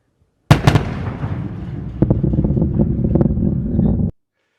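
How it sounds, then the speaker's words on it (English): Sonic boom from the Sentinel-6 Michael Freilich rocket launch, a sudden sharp double crack followed by a long rumbling roll with wind buffeting the microphone, then an abrupt stop. "I happened to get a little video of it where you can hear the sonic boom"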